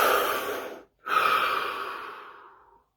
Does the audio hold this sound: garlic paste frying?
no